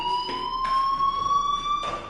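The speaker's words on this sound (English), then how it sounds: "do you hear that fire alarm? That means you should be outside." A fire alarm in the video game Life is Strange sounds steadily as a continuous electronic tone pulsing in repeated beats, moderately loud with no talk.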